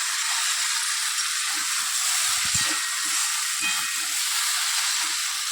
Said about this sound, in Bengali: ভালো করে কষিয়ে নিলাম, তারপরে একটুখানি জল ঢেলে পরে এবার ঢাকা দিয়ে দেবো।